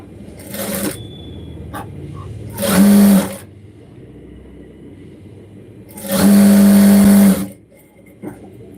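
A sewing machine stitches the front part of a garment onto a cross belt in two short, loud whirring runs, the second longer, separated by quiet pauses with faint handling noises.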